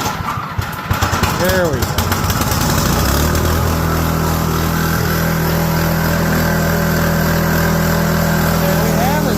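A small gasoline snowblower engine, freshly repaired after refusing to start, sputters and catches within a couple of seconds, then settles into a loud, steady running drone close by while someone speaks briefly over it.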